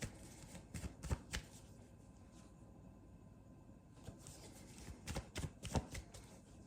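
Tarot cards are shuffled by hand in quick, soft riffling bursts, a cluster of flicks early on, a pause, then more near the end, close and fairly quiet.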